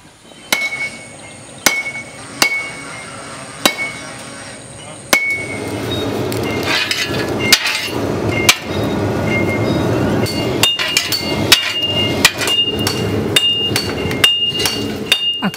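Blacksmiths in a South Kalimantan village forge mandau blades, hammering hot iron. Sharp ringing strikes come first at spaced intervals, then a busier stretch of overlapping hammer blows against a noisy workshop background.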